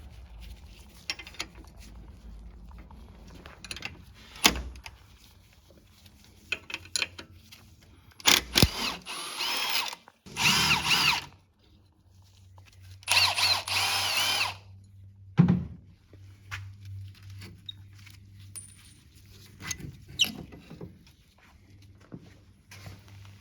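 A power tool removes the front ball joint nuts and bolts on a Polaris Ranger 800 XP in a workshop, with several loud, close bursts of whirring and rattling spread between quieter handling noises and footsteps.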